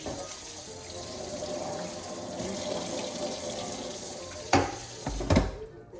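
Tap water runs steadily over sliced bitter gourd (ampalaya) in a kitchen sink, a continuous close rinsing hiss with a couple of louder splashes and clatters near the end.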